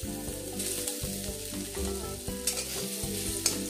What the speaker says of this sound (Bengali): এরপর আমি এখানে দিয়ে দেবো কিছুটা পরিমাণ আদা বাটা। আদাটাকে আমি